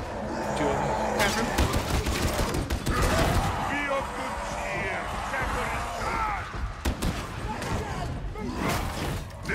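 Sniper and gunner fire in the co-op shooter Warhammer 40,000: Darktide, played as an Ogryn on Maelstrom difficulty: dense, loud volleys of shots and thuds crowding the whole stretch, with players talking over the gunfire.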